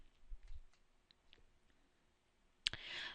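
A single sharp computer mouse click on a Save button, crisp and close, after a few faint quiet ticks in an otherwise nearly silent room.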